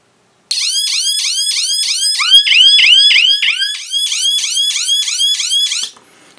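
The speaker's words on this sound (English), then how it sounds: "I'm going to cover the alarm because it's really loud." A loud electronic alarm siren from a paintball wire-cut prop with countdown timer whoops repeatedly in rapid rising sweeps, continuous for about five seconds before cutting off abruptly.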